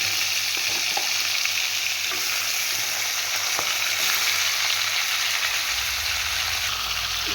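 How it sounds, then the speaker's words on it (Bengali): A fish head fries in hot oil in a wok, giving a steady, dense sizzle that continues without pause and with no voices over it. "এইখানে দেখো আমি কড়াই বসিয়ে দিয়েছি মাথাটাকে ভাজার জন্য"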